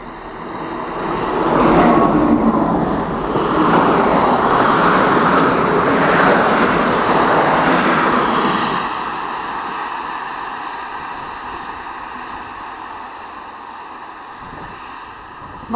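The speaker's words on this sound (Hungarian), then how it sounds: "a kék hullám sebes vonat elhaladt" A Szili electric locomotive pulls a blue Intercity express train past at speed, a loud broadband rumble and rush that builds quickly, holds for several seconds, then fades as the train moves away.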